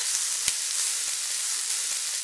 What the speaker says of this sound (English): Once the butter turns slightly brown, add the onions and fry for a few minutes until they start to caramelize.